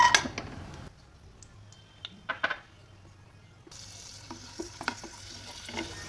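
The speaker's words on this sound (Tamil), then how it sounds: "நெய் சூடானதும் முந்திரி திராட்சை நம்ம வறுத்து எடுத்துக்கலாம்" Soft, steady sizzling of cashews and raisins frying in ghee in a pan, with occasional clinks and scrapes of stirring, close and fairly quiet.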